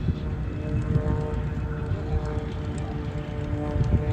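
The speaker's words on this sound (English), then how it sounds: "look at this crazy little yellow plane" Small yellow propeller plane at Oshkosh AirVenture, a steady droning engine and propeller hum with low rumbling, moderately loud and continuous over outdoor ambience.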